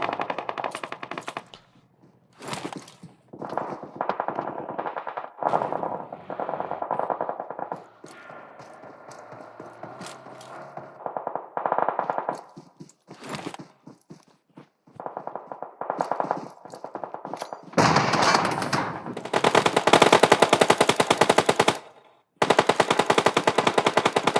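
Rapid automatic gunfire and single shots from a Clash of Clans–style esports battle royale match, bursts of firing coming in clusters with brief gaps, growing into dense, loud sustained volleys toward the end.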